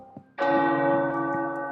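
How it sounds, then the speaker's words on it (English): In the video game Midnight Suns, tower bells strike loudly after a faint lead-in, ringing out with a rich, sustained metallic tone that lingers and slowly decays. "The tower bells are ringing."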